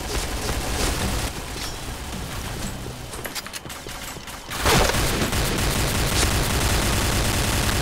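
M4A1 rifle fire in the Point Blank video game, a dense stream of rapid shots running under game noise, quieter at first and then swelling louder in the second half.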